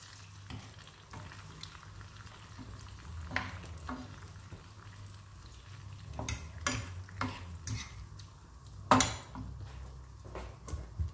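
A spoon stirs pasta with baccalà and friarielli in a frying pan. A soft, steady sizzle runs underneath, broken by scattered clinks and scrapes against the pan, with a sharper knock near the end.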